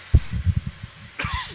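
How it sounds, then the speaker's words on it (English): Several harsh coughs close by, a quick burst followed by another short round of coughing after a brief pause. "Excuse my coughing."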